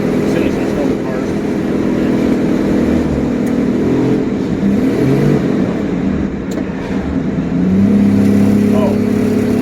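A car with a new carburetor drives on its first outing, a steady loud engine drone with some rise in revs, under people talking in the cabin.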